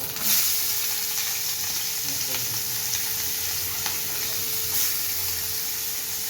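Chopped onion fries in hot tempering oil for pav bhaji, with a steady, close sizzle and occasional stirring scrapes in the pan.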